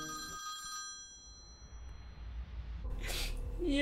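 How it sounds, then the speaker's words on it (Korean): A telephone rings with a bright electronic tone, steady near-field ringing that fades into a noisy pause before a clattering burst, heard after a call is placed from a public phone. "공중전화기에서 남편이 알려준 전화번호로 전화를 걸었습니다"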